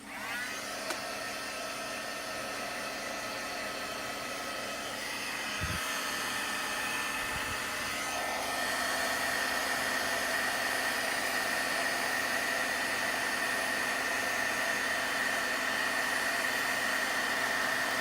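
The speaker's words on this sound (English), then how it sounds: "I'm trying not to blow hot air into my embossing pad." A heat embossing tool blows hot air steadily while a card is made, a continuous close whooshing hiss that grows slightly louder partway through and runs alone.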